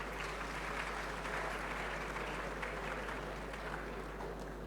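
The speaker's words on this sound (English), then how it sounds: "A round of applause for him." Steady, dense applause from an audience at a symposium commemorating the 150th anniversary of the Sagranti War, honoring a donor; the clapping holds at an even level for the whole stretch with no voices over it.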